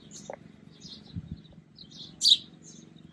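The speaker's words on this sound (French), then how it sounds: "T'entends les autres oiseaux?" A few faint, scattered bird chirps sound at a distance against a quiet low hum, with a brighter tweet standing out near the end.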